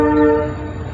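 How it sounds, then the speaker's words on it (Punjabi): A passenger train on the Bhucho Mandi to Sri Ganganagar line pulls away from a station, its steady mechanical hum and drone close and loud, easing slightly as it gets moving. "ਟ੍ਰੇਨ ਹੈ ਜਿਹੜੀ ਉਹ ਚੱਲ ਪਈ ਹੈ"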